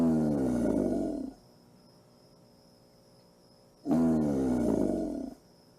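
Recorded bellow of a male alligator played back during a talk, two deep rumbling roars of about a second and a half each, separated by a quiet gap with faint background hiss.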